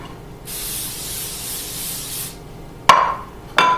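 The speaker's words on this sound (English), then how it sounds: "I'm going to spray it with a little nonstick spray." A can of nonstick cooking spray hisses steadily onto a pie plate for about two seconds, up close, followed by two sharp clacks as the can or plate is set down.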